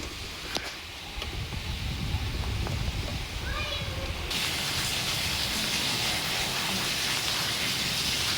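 Hail and heavy rain pound down steadily during a windy storm, a dense roaring hiss that swells louder and brighter about halfway through, with faint voices beneath.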